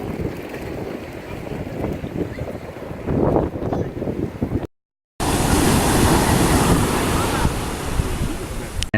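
Surf crashes and rumbles continuously along the Ocean City shore, with wind buffeting the microphone and a louder wash of breaking waves after a brief cut.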